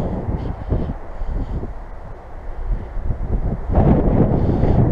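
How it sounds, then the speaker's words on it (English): Gusty wind at an abandoned WW2 anti-aircraft gun battery rumbles against the microphone, rising and falling, then surging louder near the end. "Bit windy as hell"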